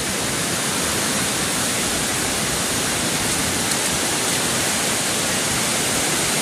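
Powerful floodwater surges past in a steady, loud, unbroken roar of rushing water, close and continuous with no voices over it.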